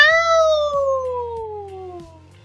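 A single drawn-out meow rises briefly and then slides slowly downward in pitch, loud and close, fading over about two seconds.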